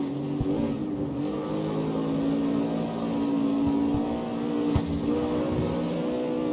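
Steady hum of a racing car engine in the street-racing game CarX Street, with a sustained tonal drone at constant speed and a few faint clicks and thumps, no voices.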